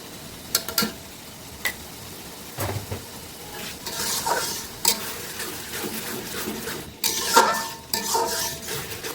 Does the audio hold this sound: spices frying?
yes